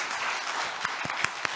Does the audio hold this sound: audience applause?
yes